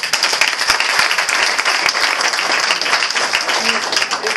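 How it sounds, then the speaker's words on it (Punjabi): An audience applauds with dense, steady clapping that keeps a fairly even loudness throughout, and a voice can be heard beneath it. "ਖੁਸ਼ੀ ਤੇ ਤਾੜੀ ਲਾ।"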